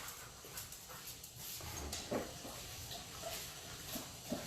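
Daisy, a pet dog, whimpers and pants in a kitchen, short soft whines and breathy panting recurring over a few seconds, close by, with no talk.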